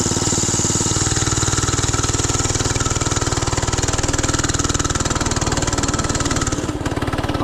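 A budget mini bike's small single-cylinder engine idles close by with a steady, quiet putter and a fast regular pulse, holding evenly throughout on a cold day.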